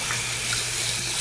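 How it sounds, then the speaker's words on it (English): Warm water runs steadily from a tap as hands are rinsed at a sink, a continuous close-up splashing hiss with no pauses. "you want to rinse under your warm running water"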